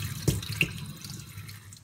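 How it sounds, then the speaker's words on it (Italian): Cauliflower florets are rinsed under a running kitchen tap, a brief splash of flowing water with a couple of sharper splashes and no voices. "Lavatelo bene, cima per cima,"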